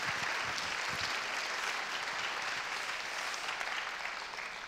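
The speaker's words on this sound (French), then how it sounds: "je crois qu'on peut l'applaudir" Applause from an award ceremony audience for an honoree, a broad continuous patter of many clapping hands at a moderate distance, holding steady before tapering slightly at the close.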